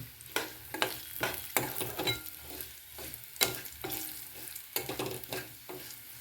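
Coconut, peanuts and turmeric fry in a tempering for panchamrut, giving a steady close sizzle broken by regular clacks of a spoon stirring against the pan, with no talking.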